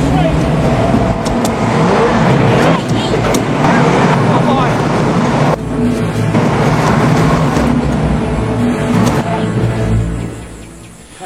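A car rolls backward after its gear lever is accidentally knocked, its engine droning loud and close throughout with some rumbling motion noise, tailing off at the end.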